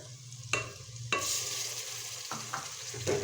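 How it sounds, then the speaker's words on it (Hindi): Tomato is added to browned garlic in a pan, giving a steady sizzle of frying with a few sharp stirring clatters and spatula scrapes, with no talking. "ब्राउन हो चुका था, इसमें हम ऐड करते हैं टमाटर"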